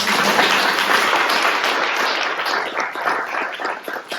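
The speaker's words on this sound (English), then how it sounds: "Can we applaud that, please?" A school audience at a State of the School event breaks into steady applause, a dense wash of clapping that holds for a few seconds and thins slightly toward the end.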